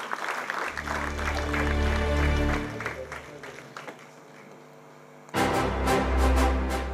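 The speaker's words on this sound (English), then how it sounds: "Can we have a huge round of applause for all three people getting prizes on the stage?" An assembly audience applauds prize winners on stage, broad clapping over background music that fades, then a fresh loud burst of applause near the end.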